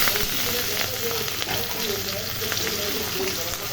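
Onions frying in hot oil with bay leaves and cumin, a steady close crackling sizzle throughout with faint stirring, alone without speech.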